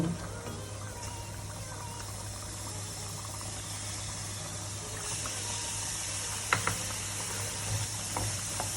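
Washed black cumin seeds fry slowly in a pan, a faint, continuous dry sizzle under a steady low hum, with a few soft stirring clicks and scrapes toward the end.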